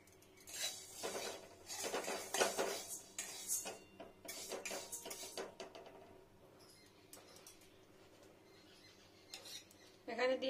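Large-grain mung dal dry-roasting in a pan for a pumpkin-leaf dish, stirred with a utensil: close, busy scraping and clinking against the pan, heaviest in the first half, easing off, then a final burst of clatter.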